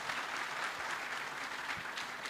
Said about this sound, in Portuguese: a quem eu peço uma salva de palmas, por favor